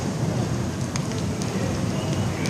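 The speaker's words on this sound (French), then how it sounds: "Mais bon, il pleut." Steady, dense hiss of rain falling in Puebla, Mexico, constant and even, with a few faint clicks of drops on a surface.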